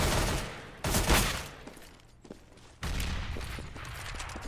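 A grenade goes off in a Counter-Strike match, heard as loud broadband blasts and rattling gunfire-like bursts, a sharp burst near one second and another around three seconds, with no talking.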